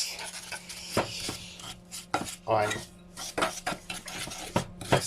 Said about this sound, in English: we're going to mix these together into a yummy sort of goo like this